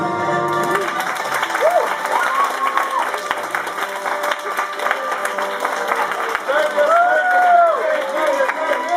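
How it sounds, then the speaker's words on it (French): Audience applause mixed with crowd noise and cheering greets a performer introduced as Jake the Snake at a church event, with sustained clapping, a few whistles and voices over it. "On applaudit."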